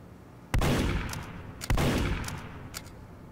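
Spy's stock revolver firing in a first-person shooter video game: two loud, sharp shots about a second apart, each trailing into a short echoing tail, with no talking.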